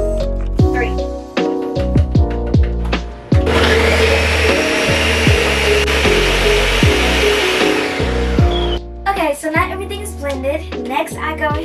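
A countertop blender whirs loudly and steadily for several seconds, churning a smoothie made with almond milk vanilla yogurt, with clinks and handling noises before and after the motor run and a voice speaking around it.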